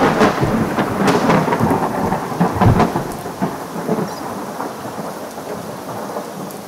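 A thunderstorm sound effect: heavy, steady rain hisses close by while loud rolls of thunder rumble through the first three seconds, then ease into a softer downpour. No one speaks.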